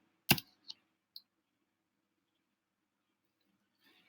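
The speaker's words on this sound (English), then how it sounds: "So I'm gonna basically hit enter" Enter key on a computer keyboard pressed once with a crisp, close click, followed by two lighter clicks, then near silence with a faint rustle at the end.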